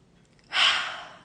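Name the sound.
deep breath in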